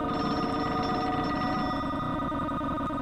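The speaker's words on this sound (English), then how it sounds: "Cookie was saying when the telephone rang." A telephone rings in a children's story setting, a continuous electronic bell-like trill heard alone and at moderate loudness for a few seconds.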